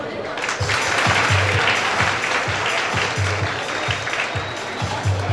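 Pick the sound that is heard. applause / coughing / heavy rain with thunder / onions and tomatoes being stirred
applause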